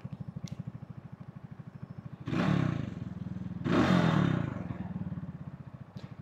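A motorcycle engine putters in a steady rhythmic pulse up close while riding near a commuter train, with two louder rushing surges of wind or passing traffic swelling and fading.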